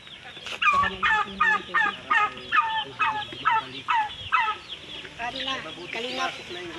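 A flock of farm ducks being herded, giving a rapid series of loud, repeated quacking calls in close rhythmic bursts, with some overlapping calls and a little human voice near the end.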